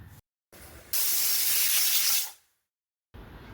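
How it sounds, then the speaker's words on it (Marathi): A pressure cooker on high heat cooking colocasia leaves lets out a single sharp, loud burst of hissing steam lasting about a second before it fades, with quiet kitchen background around it. "मोठ्या आचेवर 4 शिट्ट्या करून भाजी शिजवून घ्या"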